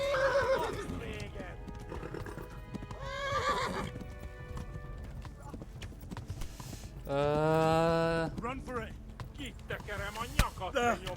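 Horses in the video game Kingdom Come: Deliverance: several loud, shrill neighs and whinnies rise and fall over steady hoof clip-clop, with a long clear whinny in the middle and occasional voices in the background.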